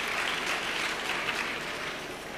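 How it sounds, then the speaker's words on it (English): A seated audience claps steadily throughout, a dense, even wash of applause heard from within the crowd. "your applause just takes the time"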